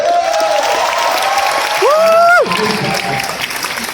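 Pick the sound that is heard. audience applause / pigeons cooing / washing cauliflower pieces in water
audience applause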